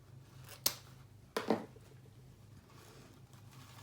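Scissors snip through wreath material with a sharp cut, followed by a second cut, close up and fairly quiet over a low steady hum.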